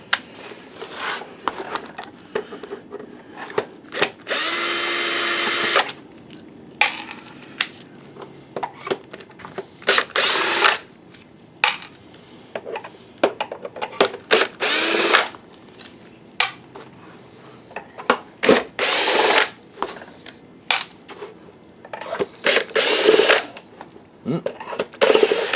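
Power screwdriver backing six screws out of the bottom of an Optoma GT1080 DLP projector, several loud buzzing whirs of a second or two each, separated by clicks and handling noises.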